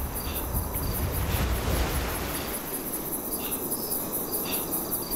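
Crickets chirp steadily through a nighttime scene in the survival game Savage Lands, set in a snowstorm, with a continuous high trill and a few louder pulses over a low rumble of wind.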